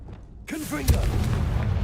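A Confringo fire spell from the video game Hogwarts Legacy goes off with a deep, rumbling boom that lingers under a short shouted voice.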